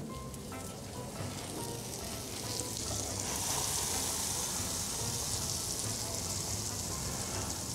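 Cuban sandwiches pressed under a plate on a hot griddle, sizzling steadily and loudly throughout, with the frying hiss swelling slightly partway through.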